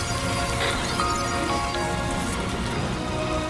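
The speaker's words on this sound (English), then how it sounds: "Rainy." Rain falls in the video game Death Stranding 2, a dense, loud, continuous patter of drops on surfaces that stays even throughout with no voices.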